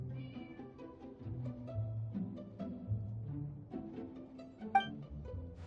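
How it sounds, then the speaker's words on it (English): The cat Sir Pouncelot in Genshin Impact gives a series of soft meows, close and moderately loud, mixed with tonal game sounds. "Aw, that's a good kitty, Sir Pouncelot."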